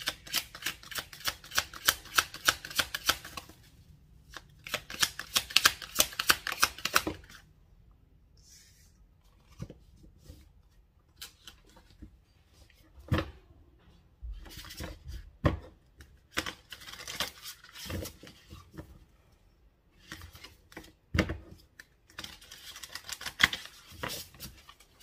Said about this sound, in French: Alors, on va mélanger les cartes.